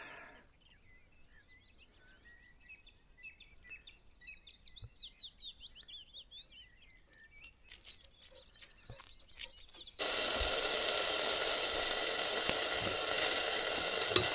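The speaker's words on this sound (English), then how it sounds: "Breakfast is cooking." Breakfast sausages sizzle and steam in a pan outdoors by Devoke Water in Cumbria, a loud, steady hiss that starts abruptly after a stretch of faint birdsong.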